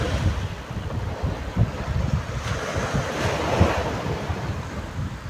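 Sea waves washing in behind a rocky shore, a steady surging wash with soft rhythmic swells, mixed with wind buffeting the microphone.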